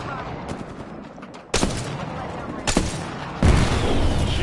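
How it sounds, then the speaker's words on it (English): Video game gunfire crackles in loud bursts during a squad-based battle royale match, with several sharp volleys and a sustained rattle of shots over background noise. "Shooting out there."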